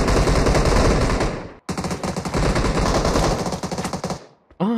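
Rapid automatic gunfire in a video game, loud and sustained bursts with a brief break in the middle, the clatter filling the clip without voices.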